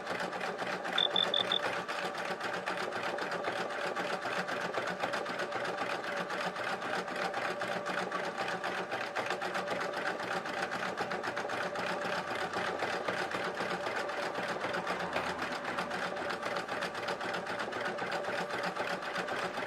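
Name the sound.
sewing machine sewing stitches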